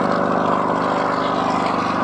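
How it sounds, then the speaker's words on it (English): A Bristol helicopter's 9-cylinder air-cooled Alvis Leonides radial engine of 550 horsepower runs at an air day at RNAS Yeovilton, giving a loud, steady, throbbing drone with no voices. "oh, the noise of the 9-cylinder air-cooled Alvis Leonides radial engine of 550 horsepower."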